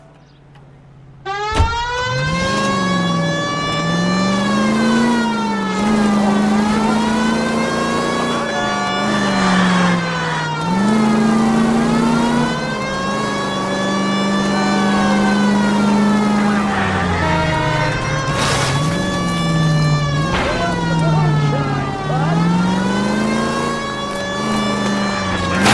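A car driven in the video game L.A. Noire, its engine revving and rising and falling through repeated gear shifts in a loud, continuous whine with a brief siren-like burst partway through.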